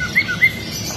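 Ornamental caged songbird singing in a bird shop, a couple of short bright chirps over steady shop background noise.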